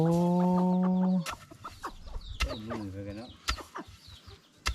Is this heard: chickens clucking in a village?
yes